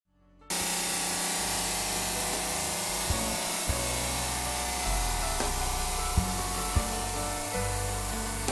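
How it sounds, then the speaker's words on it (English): Wet stone saw fitted with an Alpha Silencer 3 blade starts abruptly and cuts steadily through slab granite countertop, a loud continuous grinding drone with a few small knocks, close and without talk. "So let's start the saw up and get this cut."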